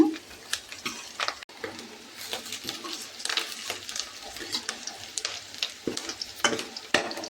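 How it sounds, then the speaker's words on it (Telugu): Chopped onions fry in a pan until deep reddish-brown, giving a steady close sizzle broken by frequent scraping stirs and the odd soft clink of a utensil. "ఫ్రెండ్స్, ఆనియన్ బాగా వేగిపోయింది కదా."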